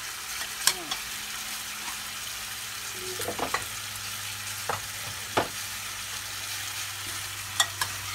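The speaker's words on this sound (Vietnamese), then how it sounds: "Trộn đều nó lên cho nó thấm nước mắm" Duck braised with ginger and fish sauce sizzles steadily in a pan while a utensil stirs it, giving scattered scrapes and clinks over the constant frying hiss.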